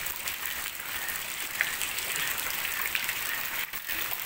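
Steady broadband hiss of rain falling, with some softer and some harder stretches, during a flood, continuous and fairly even throughout with no voices.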